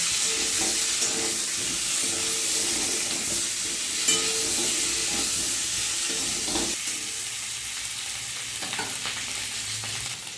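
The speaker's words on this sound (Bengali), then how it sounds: "দিয়ে দেবো হলুদ গুঁড়ো, দিয়ে দেবো নুন। আলুটা আমি ভালো করে লাল লাল করে ভেজে নেব" Potatoes seasoned with turmeric and salt fry in oil in a pan for Bengali aloo dum, giving a continuous close sizzle with soft stirring scrapes throughout and no talking.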